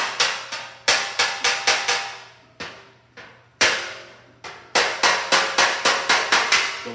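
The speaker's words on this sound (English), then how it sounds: "I would use a lighter hammer at this point, the lightest of them all" Sharp metallic hammer taps from a light hammer and dolly on sheet metal, ringing briefly, in quick irregular bursts of strikes separated by short pauses, close and fairly loud.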